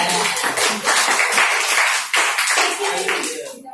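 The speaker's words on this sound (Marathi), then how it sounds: "टाळ्या वाजवत थोड्या माझ्या" An audience claps in a dense, lively burst at a business presentation, loud and close, with brief dips in the applause before it trails off near the end.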